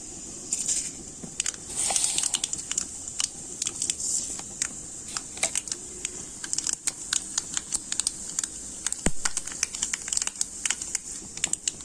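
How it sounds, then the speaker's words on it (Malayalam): Mustard seeds spluttering in hot oil for a Kerala-style bilimbi pickle, a dense run of sharp crackling pops over a steady hiss, close and fairly quiet. "ഇനി നമുക്കിതിലേക്ക് കുറച്ച് കടുക് ഇട്ട് കൊടുക്കാം."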